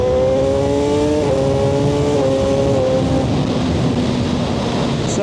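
A Suzuki GSX-R1000R sportbike accelerates hard through its gears, a loud continuous engine whine climbing and stepping down at each shift, with heavy wind roar over everything.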